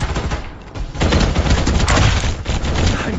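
Gunfire in the shooter game Farlight 84 rattles in loud, continuous bursts close up, layered with booming game sound throughout.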